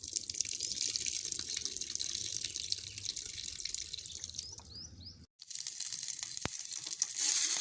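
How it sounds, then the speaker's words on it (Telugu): Water pours over raw chicken pieces being rinsed in a bowl, a close, continuous splashing and trickling that briefly cuts out before resuming with drips. "వాటర్ అయితే పోసి శుభ్రంగా ఒక 2 వంపులు వంపుకుంటే బాగుంటుందండి."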